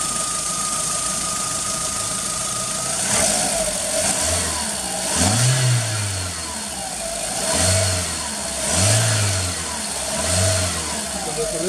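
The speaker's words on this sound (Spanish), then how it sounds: "Voy a acelerar, a desacelerar y vamos a ver cómo es que se comporta" A Volkswagen car engine is revved repeatedly in a workshop, each press of the throttle rising into a swelling vroom and falling back to idle, several close, rhythmic surges alone with no talk.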